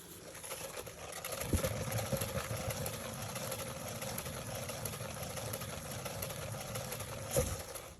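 A paint spinner turns a canvas poured with paint, giving a steady low motor hum with a faint whir. It sounds close and even, and a couple of soft knocks stand out briefly.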